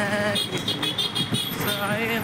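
Dense roadside traffic on a crowded highway rumbles close by with repeated short horn toots, while someone talks over the noise.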